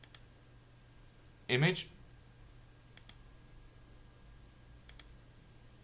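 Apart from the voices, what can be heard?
computer mouse clicking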